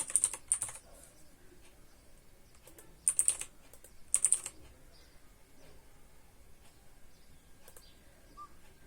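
Bursts of quick key presses on a computer keyboard, close and quiet, come in short clusters separated by pauses against a faint background.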